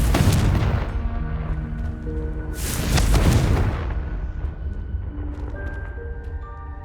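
A Confringo fire spell from Hogwarts Legacy erupts in two loud, booming explosive blasts, one at the start and one a few seconds later, over a low rumble, with faint game music rising near the end.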